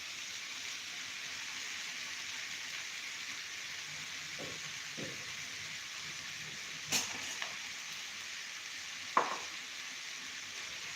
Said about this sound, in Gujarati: હવે આપણે નાખીશું ભાત.